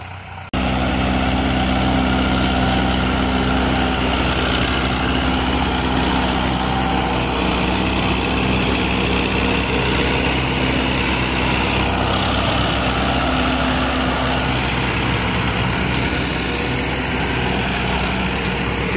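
Tractors hauling sugarcane trailers at night, a loud continuous heavy diesel engine drone starting abruptly after a brief quiet moment and holding steady and close throughout.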